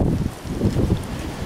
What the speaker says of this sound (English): the wind's really kicking up out here